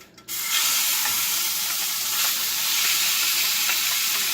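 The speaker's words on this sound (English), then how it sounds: "Hear the sizzle." Beef sizzles loudly in hot oil in a pan, a steady crackling hiss that starts abruptly and continues without pause, with no voices.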